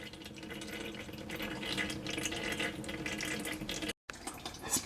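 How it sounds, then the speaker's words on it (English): Synthetic oil pours steadily out of the speed sensor on a 55 Chevy truck, a continuous splashing, trickling liquid stream heard up close with one brief cutout, and no talking. "It's pouring right out of the speed sensor."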